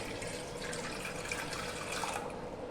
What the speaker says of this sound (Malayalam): ഈ ചട്ടിയുടെ അകത്തോട്ട് ആ വെള്ളം ഒഴിച്ചു കൊടുക്കാം